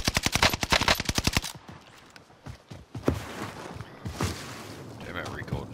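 A weapon in a video game fires a rapid burst of about a dozen loud, evenly spaced shots, followed by scattered single shots and footstep-like thuds at a lower level.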